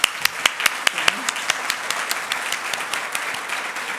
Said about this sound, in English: give everyone a round of applause here today